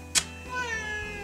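A small cat gives a single meow, starting with a sharp, bright onset and trailing into a drawn-out tonal whine, heard close and alone against low background noise.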